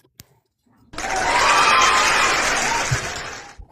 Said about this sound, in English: I want my applause, please.